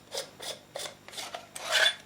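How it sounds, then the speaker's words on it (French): The plastic silencer on an XCortech XT501 MK2 airsoft gun is twisted off in a handful of short, close, raspy scraping turns, ending in a slightly longer grinding rub. "pour mettre les piles, il suffit de dévisser le silencieux de cette façon."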